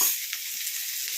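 Cabbage, ginger, green chilli and onion go into a hot pan for a Kerala-style thoran and crackle with a brief, close, bright sizzle and a faint stirring scrape.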